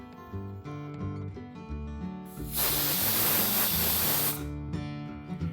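A pressure cooker cooking mutton lets out one loud, steady hiss of steam lasting about two seconds, heard over a constant musical background.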